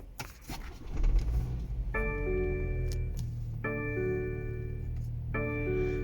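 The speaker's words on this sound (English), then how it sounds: "This vehicle is push to start." A 2019 BMW X3 xDrive30i is started with a push button. A short cranking rumble settles into a low, steady idle, and a clear electronic chime repeats three times at an even pace inside the quiet cabin.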